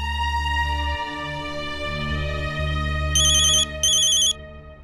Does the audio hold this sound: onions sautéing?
no